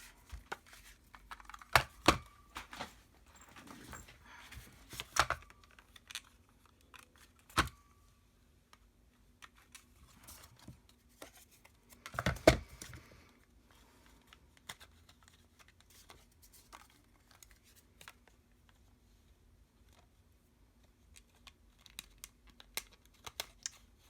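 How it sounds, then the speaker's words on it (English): Cardstock cards for a scrapbook kit are trimmed with sparse, sharp cutting clicks and slices separated by quiet gaps and soft paper handling, close and faint. "Okay, let's trim these."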